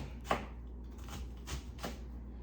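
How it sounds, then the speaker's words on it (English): A knife roughly chops an onion on a cutting board, about four separate moderate knocks spaced unevenly over a couple of seconds, close and with no talking. "an onion. Roughly chop it"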